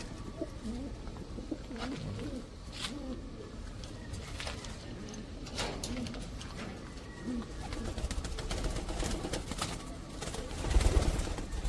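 Farm pigeons or doves coo repeatedly in a pen, close and steady, with occasional wing flutters and faint background noise throughout.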